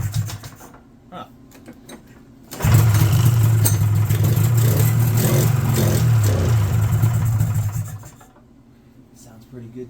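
A 1979 Polaris Apollo snowmobile engine starts and runs at a loud, steady idle with a rough, buzzing putter for several seconds, then cuts off, with faint talk before and after.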